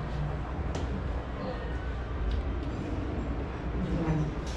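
A coin-operated train at Cornwell's Turkeyville in Michigan runs with a continuous low rumble and faint mechanical rattles and clicks, steady and fairly close throughout.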